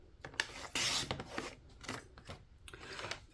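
A paper cutter slicing through crafting paper at the 5.5-inch mark gives a few short scraping, rasping strokes, with one louder drawn-out cut near the middle, close and fairly quiet.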